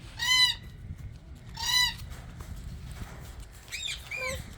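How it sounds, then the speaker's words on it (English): Guinea fowl in cages at an abandoned ghost town campsite give three bursts of harsh, rapid calling, loud and close, over a steady low rumble of background noise. "All these like guinea fowls or something."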